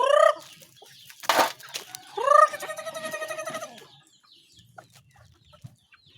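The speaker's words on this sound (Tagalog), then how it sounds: "Kaya tayo magpapakain sa ating mga alagang manok." Chickens cluck up close in a burst of repeated calls, one squawking loudly, then things quiet down to faint rustling.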